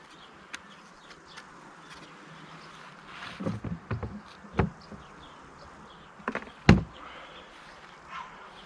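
Faint, steady buzzing of Carniolan honeybees close by at a hive, with a few louder knocks and bumps scattered through, and no talking.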